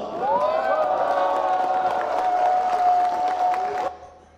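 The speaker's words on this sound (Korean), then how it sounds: "포항 시민들의 열렬한 환호 속에 시작된 강의에서" A lecture audience of Pohang citizens greets the speaker with loud, sustained cheering and clapping, a dense roar of hands and voices that holds steady for about four seconds before cutting off sharply.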